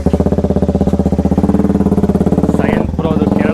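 A KTM Duke 200 motorcycle engine idles and revs nearby, loud and steady with a rapid pulsing beat, a brief dip near the end before it picks up again; people talk over it.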